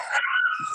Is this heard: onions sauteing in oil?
no